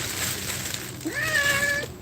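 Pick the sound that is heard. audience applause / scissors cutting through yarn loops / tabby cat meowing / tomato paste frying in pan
tabby cat meowing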